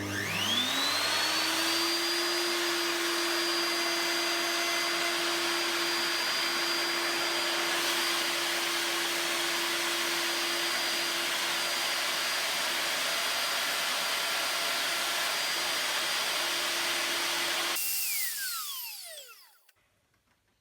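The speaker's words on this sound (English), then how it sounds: "now I'm going to plunge and wind the workpiece one way and then the other" A WoodRat router spins up with a rising whine and plunge-cuts a wooden workpiece, holding a loud steady high-pitched scream for most of the time before winding down and falling silent near the end.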